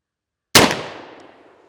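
A black powder muzzleloading pistol, an InvestArm Plains Pistol fired with percussion caps, goes off once after silence: a sharp, loud, close boom with a long decaying tail, and no talking.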